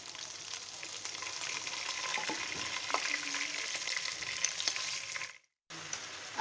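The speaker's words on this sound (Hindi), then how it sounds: "अब मैं साइड चेंज करूँगी इनकी और 1 से 2 मिनट आप दूसरी साइड पे फ्राई कर लेंगे" Beef Bihari kababs frying in a pan give a steady, soft crackling sizzle with small stirring clicks, broken by a brief moment of silence near the end before the frying resumes.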